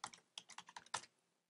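A computer keyboard on a Mac is tapped in a short, quick burst of about nine light key clicks over a second, quiet and close, with nothing else heard.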